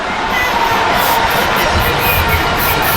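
Large outdoor crowd at an independence anniversary celebration cheering and shouting, children's voices among them, loud and continuous after a physical instructors' agility display.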